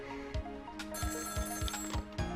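A telephone in the video game Ghost Trick: Phantom Detective rings with a bright, continuous electronic trill, while regular soft thumps pulse underneath it throughout.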